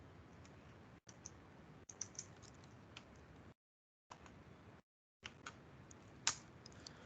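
Fingers tap out a command on a computer keyboard, a string of light, close clicks spaced unevenly, with two brief silent gaps in the middle and one sharper keystroke near the end.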